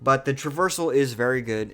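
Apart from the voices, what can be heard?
No distinct noise like a dog, phone or traffic.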